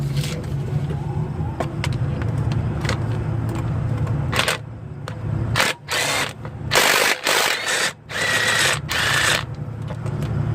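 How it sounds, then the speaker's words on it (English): Tools working on the starter bolts of a Mazda RX8 13B rotary engine, with a continuous mechanical whirr and bursts of loud rattling ratchet or impact noise in the second half. "You're gonna use your impact or ratchet, whatever you have."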